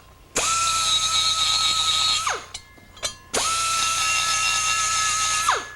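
A cutter machines a Harley-Davidson shovelhead cylinder head for a three-bolt exhaust flange, making two loud, sustained whining cuts with a steady pitch. Each cut ends in a falling spin-down, with brief clicks and clatter in the short gap between them.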